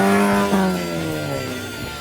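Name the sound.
Volkswagen Vento race car exhaust note, open pipes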